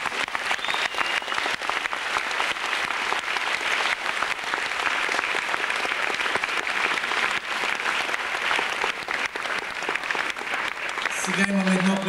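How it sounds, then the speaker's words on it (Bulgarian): Audience applause for fashion models at the Ivan Vazov National Theatre in Sofia, 2001: continuous, full clapping from a large crowd that holds steady and loud for the whole stretch, with a faint voice emerging at the very end. "Овации за нашите манекени."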